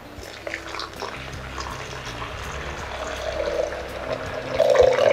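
Water pours steadily into a bowl of vegan comfort-food mixture seasoned with salt and pepper, a close, continuous liquid splash that swells louder toward the end.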